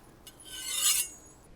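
A dull kitchen knife drawn across a whetstone in a single rasping stroke that swells and fades, with no voices.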